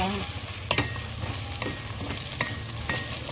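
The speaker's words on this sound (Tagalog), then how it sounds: "At isama na natin pag-isa ang ating chicken meat na minarinate ko muna" Marinated chicken meat with lemongrass and ginger frying in a pan for tinola, with a steady close sizzle and occasional stirring clatters throughout.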